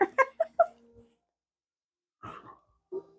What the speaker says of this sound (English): That's his dog Zero.